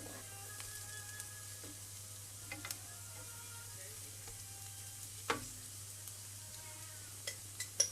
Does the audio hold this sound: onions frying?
yes